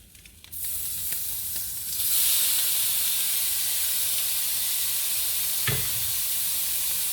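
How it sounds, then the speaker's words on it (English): Shrimp frying in hot oil in a pan give a steady, close sizzle with a bright hiss that runs unbroken, plus a short burst of spattering near the end. "Just heating up a little bit more oil."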